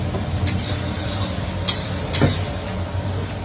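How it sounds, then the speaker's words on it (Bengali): Onion paste and ginger-garlic paste fry in a pan and are stirred, giving a continuous low sizzle with occasional scraping strokes of the spoon at close range. "এটা পেঁয়াজটাকে একটু কষিয়ে দিচ্ছি"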